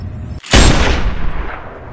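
A single loud sniper rifle shot in Sniper Ghost Warrior 2, a sharp broadband crack at once followed by a long booming tail that fades over more than a second.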